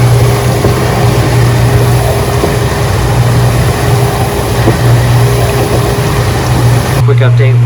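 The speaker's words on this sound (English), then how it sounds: "And the motor should be turned on now." A Whirlpool dishwasher with a newly replaced pump motor runs with a loud, steady whooshing drone and a low hum that holds throughout, then drops abruptly near the end.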